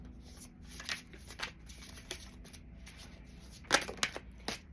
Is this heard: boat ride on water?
no